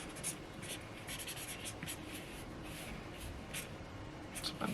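Pen or marker scratching on pink paper while a bee is drawn, a quiet run of short strokes with soft scribbling rhythm and a couple of brighter taps near the end.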